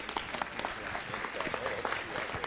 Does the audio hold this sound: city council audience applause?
yes